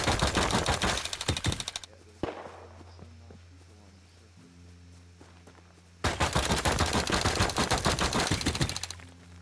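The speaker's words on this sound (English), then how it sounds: "I just hear a bunch of shooting" Rapid automatic gunfire in the survival game Rust, two long loud bursts of dense shots separated by a quieter stretch with a lone crack and faint footsteps, close and harsh.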